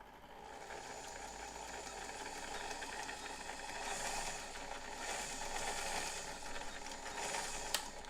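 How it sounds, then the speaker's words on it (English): A faint sewing machine running slowly with a rough, rhythmic mechanical grinding and whirring, its pulsing texture swelling and fading over a few seconds, ending in a small sharp click. "When I try to sew slowly, it does, but it makes a weird grinding sound."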